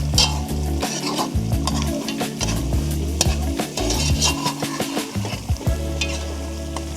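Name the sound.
scraping bottom of pan while cooking coconut oil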